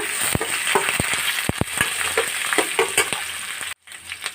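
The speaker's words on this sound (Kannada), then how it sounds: "ಇದನ್ನು ಇವಾಗ ಚೆನ್ನಾಗಿ ಫ್ರೈ ಮಾಡ್ಕೊಳ್ಳಿ ಎಲ್ಲವನ್ನು ಕೂಡ." Chilies, onion and capsicum frying in a pan for shavige bath, with a steady sizzle broken by sharp clinks and scrapes of stirring, then a brief cut to silence near the end.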